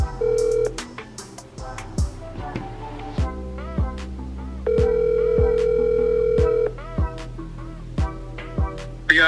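A smartphone rings with an incoming call, a repeating electronic ringtone melody with sustained tones and short beeps, close and clear.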